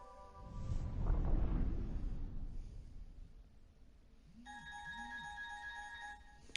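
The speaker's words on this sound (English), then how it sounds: "That was my phone ringing." A mobile phone rings in a quiet room, a repeating two-tone electronic trill that starts partway through after a low rumbling background, steady and moderately loud.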